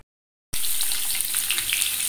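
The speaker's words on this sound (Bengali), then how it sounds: "ডিমগুলো ভাজার জন্য দেওয়া হয়ে গেছে।" Spiced boiled eggs frying in a pan: after half a second of silence a loud, steady sizzle breaks out and continues with small crackling pops.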